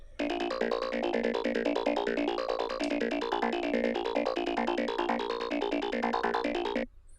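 A plucky, filtered saw-wave synth line plays a quick run of short notes, steady and bright, ending abruptly after several seconds.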